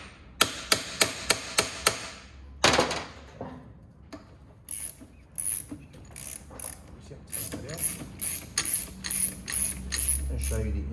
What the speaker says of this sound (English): this nut here is a bit loose, so I'm just going to tighten that up so it doesn't move around with me